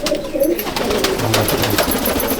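Several Andhra and Malwai pigeons coo in a loft at Subhasgram, their deep, throaty murmurs overlapping steadily, with a couple of louder, nearer coos standing out among the flock.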